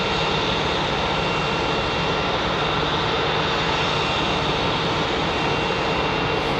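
A CRJ jet engine spools up at an airport, giving a continuous, loud, broadband roar and whine that holds steady throughout, with no other sounds standing out.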